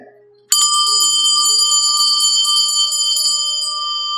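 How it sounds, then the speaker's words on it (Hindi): A bronze bell is struck once, then rings on with a bright, shimmering sustained tone that slowly fades; a faint voice murmurs just before the strike. "यदि आप रोज जैसे कांसे की घंटी का नाद उसके समीप देते हैं"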